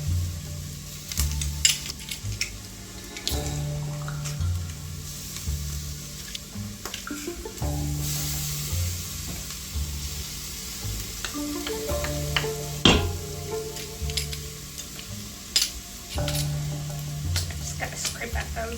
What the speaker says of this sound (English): I think I'm good to add my garlic.